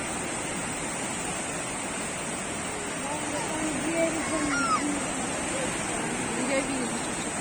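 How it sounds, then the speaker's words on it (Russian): Evening sea waves at Gelendzhik roll in as a steady, fairly loud wash of surf with a few louder swells, with faint voices in the background. "Смотри, какие волны."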